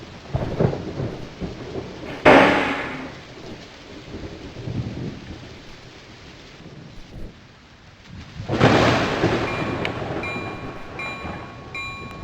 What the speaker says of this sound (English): And with a great crack of thunder